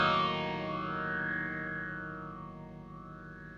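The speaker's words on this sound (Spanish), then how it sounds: "fíjense cómo suena solamente el filtro B" Guitar run through an EarthQuaker Devices Interstellar Orbiter filter pedal with only filter B engaged: a single sustained, distorted chord sweeps slowly with a phasing, chorus-like wash and fades gradually, with no voice.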